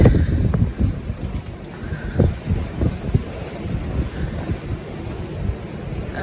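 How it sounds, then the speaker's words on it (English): Strong wind blows outdoors in near-zero visibility ahead of storm winds of up to 140 mph, a steady rushing roar with low gusty buffeting against the microphone, continuous throughout with no speech. "this is like the wind, but not at the harshest that it will come down"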